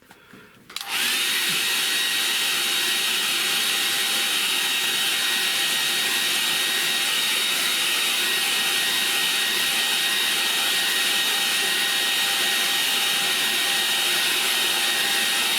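A hair dryer blows steadily on wet paint during a light-brushwork painting session, starting abruptly after a brief quiet moment and running loud and continuous as a broad, even whoosh with a faint motor whine.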